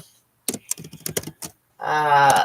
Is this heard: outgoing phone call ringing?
no